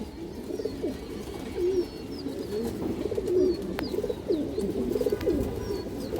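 Khaki pigeons, including silver khaki females, cooing softly and repeatedly in a pen, with several overlapping low burbling calls and faint chirps in the background.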